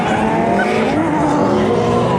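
Drifting cars at a Fuel Fest event in Tampa howl with engines and long squealing tires, a continuous loud roar and screech filling the whole moment.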